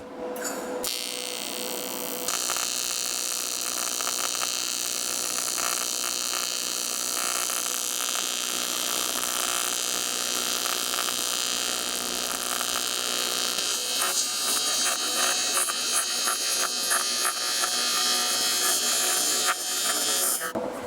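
Steady, loud buzzing hiss of AC TIG welding at 125 amps with 5356 aluminium filler wire, fed through a foot controller, holding a continuous crackling drone for about twenty seconds.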